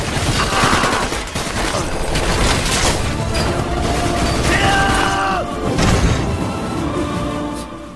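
Dense, loud gunfire from soldiers shooting at a tree in a war film: rapid overlapping rifle and machine-gun bursts, with booms and a brief whistling sweep, continuous throughout under a battle soundtrack.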